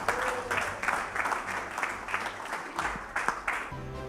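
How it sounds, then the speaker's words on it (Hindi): A crowd at a cricket presentation claps for cricketer Sajid Khan in rhythmic, moderately loud bursts that continue steadily for several seconds, with no talking. "तो प्लीज़ इनके लिए भी तालियां।"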